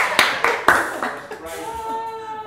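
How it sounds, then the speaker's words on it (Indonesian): A few sharp, separate claps from a small group after an Indonesian trivia quiz ends, followed by a fading ringing tone, with light laughter and chatter. "Kita tepuk tangan dulu."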